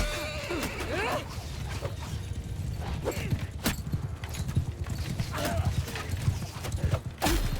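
Horse hooves clip-clop in the video game Mount & Blade II Bannerlord, a brisk, steady rhythm of close hoofbeats with occasional clanks and creaks around them.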